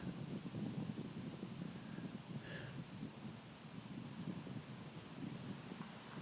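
Steady wind rushes across an outdoor disc golf course at a professional tournament, with low broadband buffeting against the microphone throughout and no talking.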